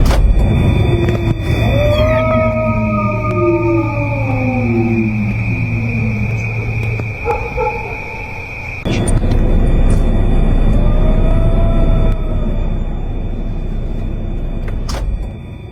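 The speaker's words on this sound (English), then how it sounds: "at first it sounded like a wolf, but then like ended with that growl" An unknown animal howl resembling a wolf, with long rising and falling wavering calls that end in a low growl, loud over a steady low rumble and a sustained hum, then a second fainter wail after a pause.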